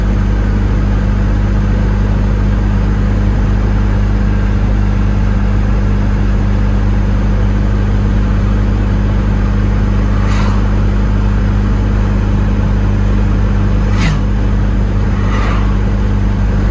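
A Ligier X-Too microcar with an LDW 505 engine and toothed-belt drive is heard from the cabin while driving: a loud, steady engine drone with a constant hum and a few faint higher squeaks over it.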